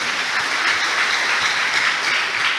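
Steady, dense applause from a church congregation fills the space throughout, loud and even from start to finish, following a sermon about Jesus Christ.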